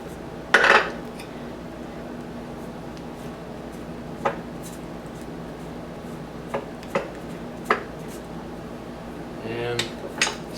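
Knocks on a wooden box blank held on a lathe faceplate while the center is knocked out: a loud clatter near the start, then several sharp, separate raps spaced a second or so apart and a short scraping burst near the end.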